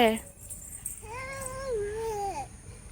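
A short, drawn-out meow with a rising and falling pitch sounds nearby, alone and fairly clear.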